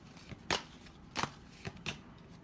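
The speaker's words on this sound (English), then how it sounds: "Give me a minute to shuffle the cards." Tarot cards being shuffled by hand, heard as four quick, crisp riffling bursts spaced through a short quiet stretch, close and fairly soft, with no talking.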